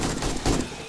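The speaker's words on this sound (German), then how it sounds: "Wer schießt denn da?" Gunfire in the zombie survival game 7 Days To Die, a brief rough burst of shots, fairly faint and muffled, with no talking over it.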